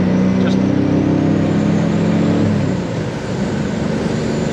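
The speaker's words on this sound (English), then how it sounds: "It's the other 2 barrels opening up, like a 4-barrel on a V8 car or something like that." A Chevrolet Corvair Corsa engine with single exhaust pulls under load as its secondary carburetor barrels open, a close, steady low drone with a tonal hum that shifts and thins partway through.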